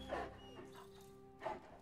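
Dog in the video game Marvel's Midnight Suns giving two short, soft barks about a second apart, heard over a quiet sustained tonal game background.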